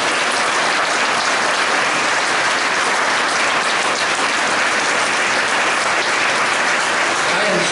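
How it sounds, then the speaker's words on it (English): An audience applauds at a music hall of fame ceremony, a dense, even wash of many hands clapping continuously and loudly throughout. "that's why they're applauding whether they know you or not"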